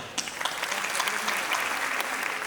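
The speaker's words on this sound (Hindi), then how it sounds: "एक बार जोरदार तालियां।" Audience applause fills a hall after young performers from a children's theatre workshop are introduced, steady and dense clapping sustained for a few seconds with no talk over it.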